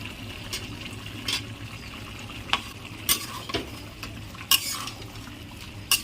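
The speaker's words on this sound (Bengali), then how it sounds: "একটু নাড়িয়ে এবারে আলুগুলো দিয়ে দেবো" Duck curry being stirred in a pan with potatoes tipped in, giving a steady low sizzle broken by several sharp utensil scrapes and clinks against the pot, close and fairly quiet with no talking.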